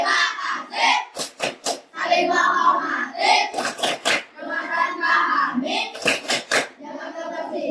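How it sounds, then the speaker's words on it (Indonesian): A class of students doing a rhythmic clap routine in a classroom, loud unison chanting broken by sharp bursts of group handclaps in quick clusters. "Tepuk keyakinan kelas digunakan untuk mengingatkan keyakinan kelas yang telah kita susun bersama di awal tahun pembelajaran"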